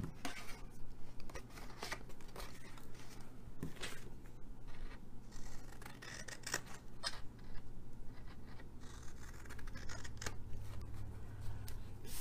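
Scissors snip into a milk carton for a DIY box, a series of close crisp cuts and crinkly cardboard rustles over a low steady hum, with no talking.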